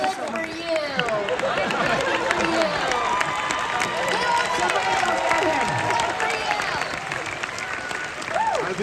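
Q&A audience at a The 40-Year-Old Virgin screening event applauding and laughing, a steady, fairly close wash of clapping mixed with crowd chatter and cheers that lasts throughout.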